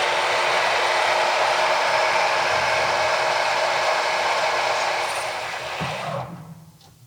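A metal lathe takes a cut, giving a steady loud hiss that holds for about six seconds and then winds down and fades at the end, with no talking.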